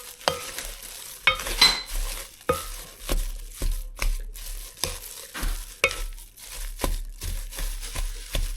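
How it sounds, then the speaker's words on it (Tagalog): Cassava cake batter with brown sugar being stirred in a bowl, a steady run of close, repeated scraping strokes with soft wet swishes between them, alone with no talking. "Haluin lang natin."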